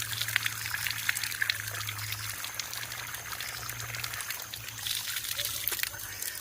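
Spring water trickles and pours steadily from a mountain village source, a continuous close splashing stream with a low hum beneath it, no voices over it.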